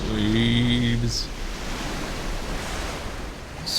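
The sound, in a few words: Terror Tower crashing into ocean waves in video game Chrono Cross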